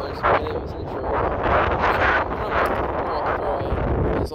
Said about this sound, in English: It's super windy out today, so we'll see.